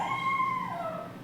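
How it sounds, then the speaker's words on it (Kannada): A dog gives a short, whining howl that wavers and falls in pitch, moderately close, with no voices present. "ಸಖತ್ ನಾಯಿ ಬೊಗಳ್ತಾ ಇದೆ ನೋಡಿ"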